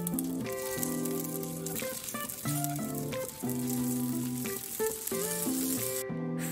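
Pork cutlets frying in a pan on medium heat give a soft, steady sizzle, mostly masked by louder melodic background music.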